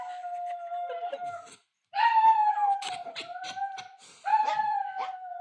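Dogs howl in long, wavering, tonal cries, several voices overlapping in close succession with brief yips and a short pause between bursts.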